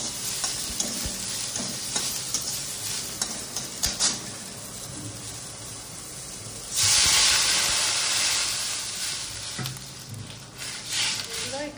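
Vegetables go into a hot pan in a home kitchen. A steady sizzle of frying and stirring swells into a louder, brighter hiss partway through, then settles back.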